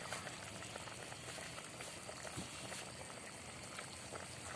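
A pot of water at a steady rolling boil, with a continuous bubbling hiss and gurgle that stays even and fairly close throughout, with no voices.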